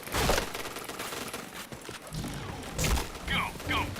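Bursts of rapid automatic gunfire from the Point Blank shooting game sound in quick clusters, with a voice talking over the action.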